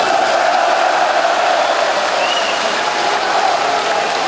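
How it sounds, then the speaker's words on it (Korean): Steady, dense applause and cheering from an audience at an Orange Day Agent Orange victims' ceremony in Korea, loud and continuous throughout with no break. "여러분께서 이렇게 환호를 해주시니까"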